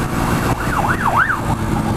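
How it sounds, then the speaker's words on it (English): An ambulance siren wails past on the road, its rising and falling tone clear and fairly loud over steady traffic and in-car road noise, sweeping up and down twice before fading. "that's not a nice thing to have an ambulance come streaming past you"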